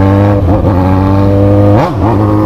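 A motorcycle engine hums loud and close at a steady idle, briefly blipped twice with short rising-and-falling revs.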